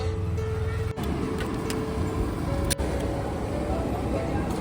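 An auto rickshaw rides along a city road, its engine drone and road rumble running steadily and close with passing traffic around it and a faint horn tone.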